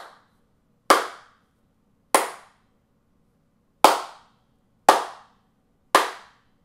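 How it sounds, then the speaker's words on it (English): Five single hand claps ring out in a small room treated with acoustic foam, each a sharp, loud crack followed by a short ringing decay, spaced roughly a second apart against near silence. "I'll just make a test to show you the difference between these panels and the foam when I clap"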